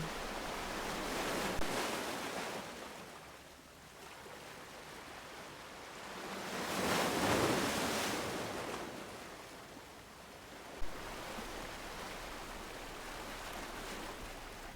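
Ocean waves surge in and recede on a rocky shore at Pemaquid Point, Maine, a steady washing roar that swells twice with no voices, broad and fairly distant.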